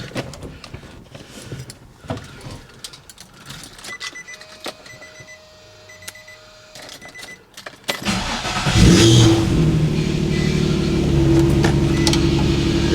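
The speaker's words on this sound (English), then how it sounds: "I'll give it a couple revs to make sure it's not in limp mode" A drift car sits idling with faint clicks and ticks before its engine roars up in a loud rev, then holds a heavy, rough rumble close by for the remaining seconds.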